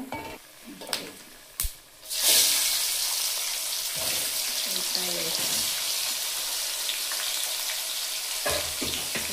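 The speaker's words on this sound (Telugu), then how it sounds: "ఉల్లిపాయలు రెడ్ కలర్ వచ్చిన తర్వాత వేగాల" Onions frying in a pan at home hiss and crackle steadily, preceded by a few sharp utensil clatters and stirring scrapes, with the sizzle loud and sustained through most of the clip; a voice speaks faintly at points.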